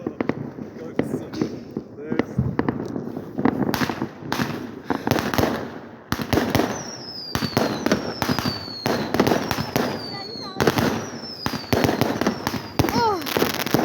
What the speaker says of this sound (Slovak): Všade výbuchy.